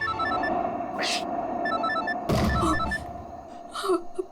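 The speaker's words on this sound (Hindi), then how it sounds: "आयशा को फोन करती हूँ।" A phone rings while a call is being placed, giving a repeating electronic tone pattern at moderate level. Some breathy vocal sounds and background noise mix in.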